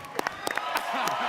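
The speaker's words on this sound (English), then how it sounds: "Let's give one more round of applause to our amazing panelists that we have here today." Audience applause at a Spider-Man 2 comic con panel, a scattered burst of claps rising from a crowd, with a voice talking over it as the clapping builds.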